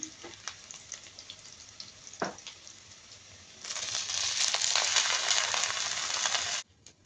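Chopped onion frying with whole spices in a pan for hilsa pulao, a quiet hiss with scattered crackles that swells into a loud, dense sizzle midway before abruptly dropping off.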